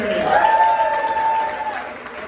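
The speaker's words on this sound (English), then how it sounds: "Everybody put a big round of applause for Raphael Wolfgang" Applause from a comedy club audience at a preschool fundraiser show, welcoming a San Francisco comic to the stage; steady, fairly close clapping with a few whistles over it, fading slightly toward the end.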